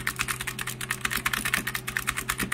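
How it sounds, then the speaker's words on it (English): Rapid, steady clacking of keys on a wireless mechanical keyboard, close and continuous with no voices. "This is the keyboard test on the new one."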